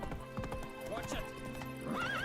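A horse in a video game clip-clops and neighs under a player's speech and game music, brief and mid-level.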